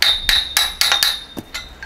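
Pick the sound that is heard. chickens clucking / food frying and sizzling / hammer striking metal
hammer striking metal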